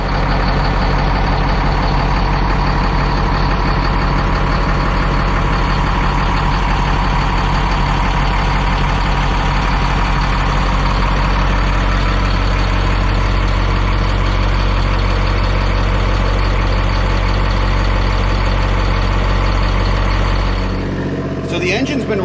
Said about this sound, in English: So the engine's been running for about 15 minutes.